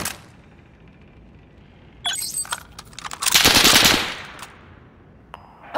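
Machine gun fire in the video game Call of Duty: Warzone Pacific, a loud burst of rapid shots swelling over a few seconds, with clanging metallic hits before it and a quieter ambient game background.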